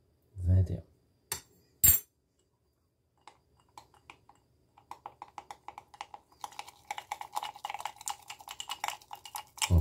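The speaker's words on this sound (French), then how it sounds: "On fouette comme il faut." A small spoon whisks and stirs flour into a sourdough starter in a container, giving quick clicking, scraping taps that start sparse and become a rapid, steady rhythm, close up, with a few louder knocks early on.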